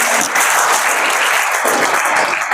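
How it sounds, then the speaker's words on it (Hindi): Loud, dense applause from a crowd at an event with a judge, sarpanch and social workers in Mundhal, a continuous burst of many hands clapping at once. "इसके लिए मैं जोरदार तालियां आपसे चाहूँगा।"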